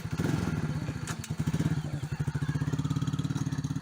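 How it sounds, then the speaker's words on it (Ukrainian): A repaired Musstang Alpha motorcycle engine chugs with a rapid, pulsing beat, revving as it pulls away, loud and close. "Короче, поїхав мотоцикл."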